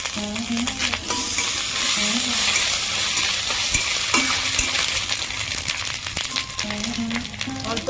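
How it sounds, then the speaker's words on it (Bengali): Peanuts and chopped green chillies fry and sizzle steadily in a pan, with a constant loud crackle, occasional stirring scrapes and metallic clinks throughout. "কাঁচা লঙ্কা কুচিগুলো ভালো করে ভেজে নেব"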